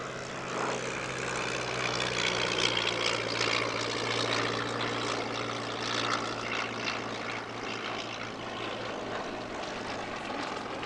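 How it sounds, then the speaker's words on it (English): A 1930 CLA-7 Swift single-seat sport aircraft flies at the Shuttleworth airshow, its propeller engine giving a steady, fairly distant drone with a low hum for the whole stretch and no voices. "The CLA-7 Swift is a single-seat sport aircraft that first flew in 1930."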